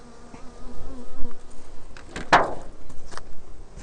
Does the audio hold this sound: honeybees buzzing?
yes